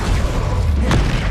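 A Confringo blasting-curse explosion cast in Hogwarts Legacy, heard as a loud, dense, booming burst of noise with a brief sharp crack partway through, close and continuous for its short length.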